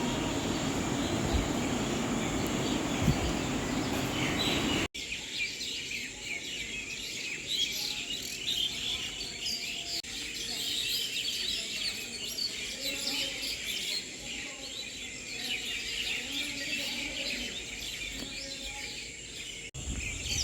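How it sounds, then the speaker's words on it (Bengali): Birds chirping and calling at dawn in old trees outside a railway station, scattered bright tweets over a steady hum with a distant aircraft-like drone, some faint voices in the background. "ভোরের পাখিটা ডাকতে শুরু করেছে।"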